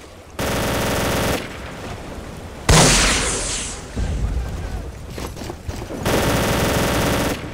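Machine gun bursts in the World War II shooter Day of Defeat: Source come in loud sustained rattles, broken by a sharp blast and its decay, then another long burst at the end.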